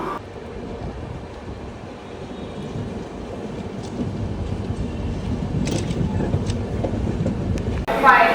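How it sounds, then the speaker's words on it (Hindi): A train stands or moves at a platform at Anantapur station: low rumble and wind-like noise build slowly, with a few brief higher clanks or squeals near the end. "अपनी ट्रेन भाई साहब यहाँ ही है अनंतपुर के प्लेटफॉर्म नंबर 3 में"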